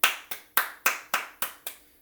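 Seven sharp hand claps at a steady, brisk pace, close and crisp, like a single person applauding at the end of a class presentation.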